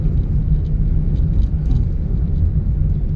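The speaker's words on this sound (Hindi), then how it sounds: "जाने दो, रेस दो, रेस, ब्रेक मत मारना आप।" A car driven by a learner makes a loud, low engine rumble heard from inside the cabin, holding steady with no clear rise in revs.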